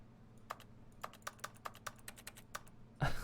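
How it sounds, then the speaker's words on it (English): Keyboard keys tapped in The Stanley Parable: Ultra Deluxe, about ten crisp, distinct clicks at an uneven typing pace over a low steady hum, ending in a louder burst of noise. "can you still hear me tapping keys?"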